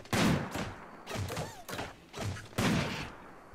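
Repeated rounds of video game gunfire crackle through a RimWorld fight, several distinct loud volleys separated by brief gaps, close and steady.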